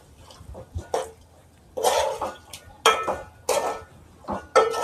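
Spice paste of cumin and coriander powder being mixed in a cooking pot, heard as intermittent metallic scraping and clinks of a spoon against the pot in short separated bursts, close by over a quiet background.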